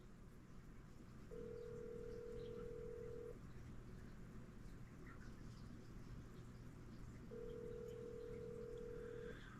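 Two long, steady telephone tones sound a few seconds apart over a quiet background, like a call ringing out unanswered.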